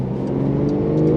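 A Porsche 911 Carrera T engine pulls hard on throttle, a loud, smooth, rising rev heard from inside the car for just over a second, with no talking over it.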